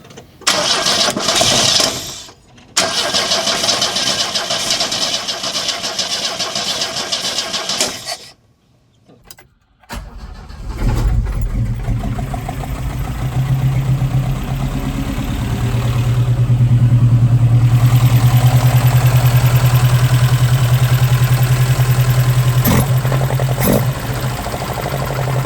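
An Opel Manta A fitted with twin Weber DCOE 40 carburetors cranks after a fuel line is hooked up, with loud bursts of sound, a brief pause, then the engine catching and settling into a steady, close, throaty running idle.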